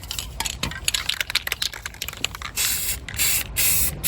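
Rust-Oleum black ultra matte spray paint hisses from an aerosol can in short bursts at first, then in two longer steady sprays, close and clear with no talking.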